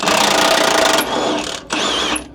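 Milwaukee power tool, likely an impact wrench, working a suspension bolt on a Hendrickson trailer airbag suspension, a loud close continuous whir that drops and briefly cuts out partway, then resumes alone.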